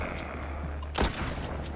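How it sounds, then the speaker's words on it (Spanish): A single sharp gunshot aimed at a zombie's head in Walking Zombie II cracks out loud and close, with a short burst of noise over a low steady game hum and no talking. "No, puedo dispararles a la cabeza."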